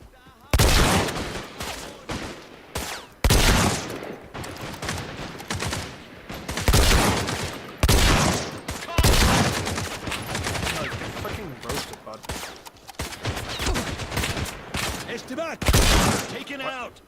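Shotgun and machine gun fire in the shooter video game Caliber, with repeated loud bursts and sharp blasts throughout, under and between a player's ongoing talk.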